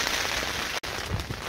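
Rain falls steadily on a wet, windy wild camp on Dartmoor, making a close, even hiss with one very short break partway through.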